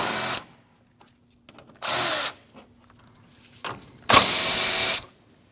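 Power drill backing out 10mm front bumper bolts on a 2014-2023 Jeep Cherokee, in three loud whirring bursts separated by pauses, the last one longest, with no talk.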